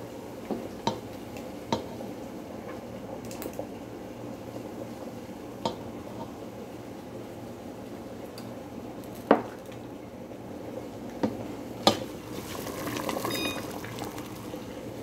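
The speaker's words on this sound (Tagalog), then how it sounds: "Hayaan natin kumukulo-ulo siya." Homemade cherry jam boils in a pot with a low, steady bubbling simmer and occasional soft pops and ticks scattered throughout, quiet and continuous with no voices.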